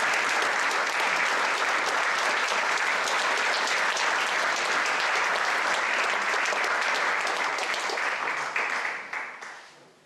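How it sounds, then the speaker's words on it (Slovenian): Applause from an audience at a municipal holiday ceremony, a full, steady wash of clapping that holds for several seconds and then tapers off and fades near the end. "Prosim še za en aplavz"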